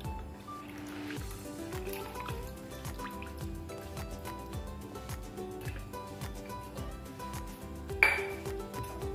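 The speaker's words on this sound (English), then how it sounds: "we'll be straining the entire tea inside this watermelon shake" Tea is strained into a watermelon shake as a close, steady trickle with rapid, regular drips, broken by a single bright clink of the strainer near the end.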